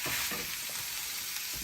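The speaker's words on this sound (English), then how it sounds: "Stir it out a little more." Burger meat sizzles and fries in a pan while being stirred, a steady close crackling hiss with soft scraping strokes underneath.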